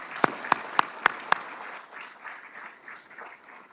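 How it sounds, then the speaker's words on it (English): An audience at a ceremony claps for children and grandchildren, opening with five sharp evenly spaced loud claps, then settling into softer, scattered clapping and murmur. "give these children and their grandchildren a big round of applause"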